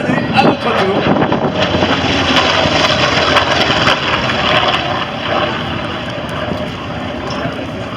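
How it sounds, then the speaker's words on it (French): A Douglas Skyraider makes its final low flypast at an aerobatics world championship air show in Châteauroux, a steady loud propeller-engine roar with wind buffeting, under a commentator's voice. "Regardez ce passage. Dernier passage du Sky Raider"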